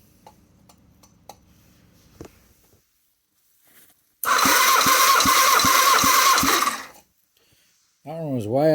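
An engine that has sat unused cranks over on the starter during a compression test, a loud rhythmic chugging burst of about three seconds after quiet ticks and clicks, followed by a brief warbling tone.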